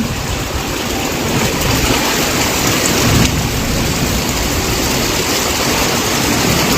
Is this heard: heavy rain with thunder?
yes